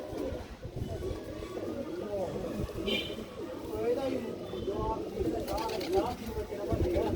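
Pigeons coo softly in low, throaty bursts beneath steady, close conversation, with a brief higher chirp partway through.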